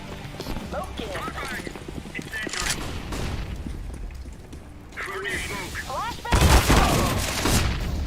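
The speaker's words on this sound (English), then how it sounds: "Grenade." Grenade explosion and gunfire in the shooter game Gunfire Reborn, with a burst of booming blasts rising loud near the end after stretches of rapid shots. Voices talk over the game sounds.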